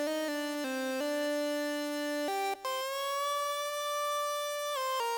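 A bright Moog Siren synthesizer lead plays a melody in doubled octaves, sustained notes stepping between pitches with a smooth glide, loud and upfront.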